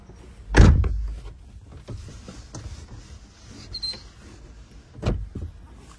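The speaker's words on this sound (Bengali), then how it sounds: "দেখেন আমি গিয়ারগুলো পালাচ্ছি, 1 2 3 4, এই 5 নম্বর গিয়ার, এই ব্যাক গিয়ার দেখছেন ভাইয়া।" A car's gear lever worked through first to fifth and into reverse, giving a heavy clunk at the start, softer knocks and shuffles, then another firm thunk near the end, close and with no talk.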